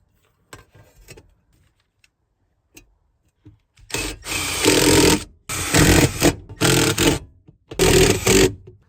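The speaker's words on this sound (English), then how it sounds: "I'm just gonna put self-tapping screws into this thing." Self-tapping screws being driven into a Ford F250 truck floor, a power driver whirring in several short loud bursts after a few quiet clicks and handling knocks.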